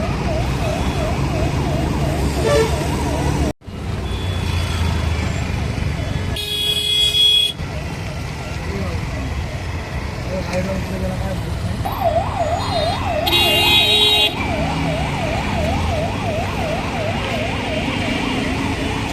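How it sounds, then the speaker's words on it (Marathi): An ambulance siren wails in a rising and falling pattern while stuck in a traffic jam on Ghodbunder Road near Thane, heard in two stretches over steady engine rumble and a car horn toot, with a voice speaking over it. "एमर्जन्सी व्हेकल्स म्हणून ओळखली जाणारी ॲम्ब्युलन्स सुद्धा ही या वाहतूक कोंडीमध्ये"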